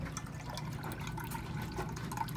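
Water drains steadily from a washing machine tub that won't empty properly, a continuous rushing trickle heard close up on its own.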